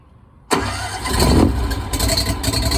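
An engine starts with the choke set to minimum, a sudden loud catch after quiet, then settling into a steady close-up idle with a slight rise in revs.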